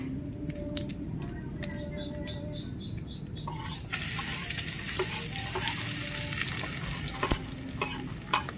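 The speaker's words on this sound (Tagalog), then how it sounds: "Ayan, gigisa natin." Pechay, Baguio beans and string beans are stirred and sautéed in a pan, giving a steady soft sizzle with a scraping utensil and a brighter hiss that rises midway, heard up close with no talking.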